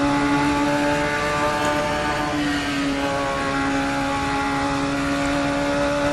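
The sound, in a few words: Radical SR3 XXR engine revving in video game Assetto Corsa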